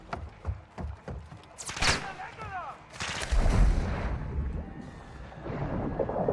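In a shooter video game, sharp gunshots crack in quick bursts and are then followed by a heavy, rumbling grenade explosion. A voice speaks briefly between the shots.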